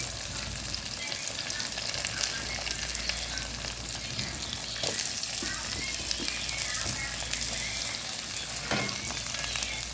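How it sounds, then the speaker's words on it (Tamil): Onions, green chillies, curry leaves, ginger and garlic sauté in a pan for a black chickpea curry, producing a dense, steady, close sizzle with a few faint stirring knocks throughout. "நல்லா வதங்கட்டும்"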